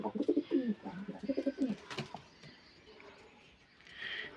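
Sonchiray pigeons in a breeding setup give soft, throaty cooing in repeated low bursts for about two seconds, followed by a brief flutter and quieter background rustling.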